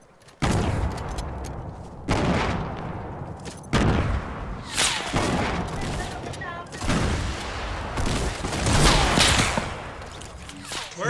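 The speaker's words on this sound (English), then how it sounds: "Where are we getting shot from?" Gunfire in the video game Fortnite, repeated loud bursts of shots and impacts cracking through the scene, with voices talking over the fighting.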